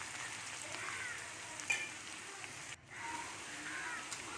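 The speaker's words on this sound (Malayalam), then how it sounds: "ഇനി നമ്മുടെ ഇഞ്ചി വെളുത്തുള്ളി നന്നായി മൂത്തിരിക്കുകയാണ്." Ginger and garlic fry in a pan while a Kerala-style kappa dish is prepared, giving a soft, steady sizzle with a brief dip midway and no talking.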